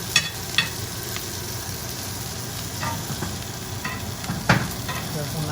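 Butter sizzling in a pan as it is spooned over the top of the food, a steady crackling hiss with a few sharp clinks and scrapes of the spoon.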